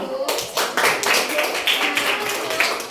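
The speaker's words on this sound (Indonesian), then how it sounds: "Oke, tepuk tangan untuk semuanya dulu." A classroom group claps together after student presentations, fast dense applause that keeps going steadily for about three seconds, close and fairly loud, with some voices underneath.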